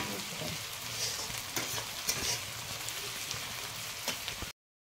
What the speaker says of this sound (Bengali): ব্রেডটা ভাজছি